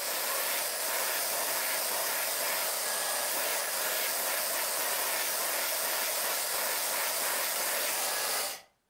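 A hairdryer blow-drying hair runs as a steady, loud, close airy hiss for several seconds, then cuts off abruptly at the end.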